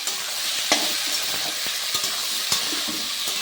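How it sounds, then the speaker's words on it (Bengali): Vegetables stirred in hot oil in a kadai wok, a steady sizzle with scraping spatula strokes and a few sharp clinks against the pan, close and clear with no voices. "এবার কড়াইতে দিয়ে দিলাম, একটুখানি নাড়বো"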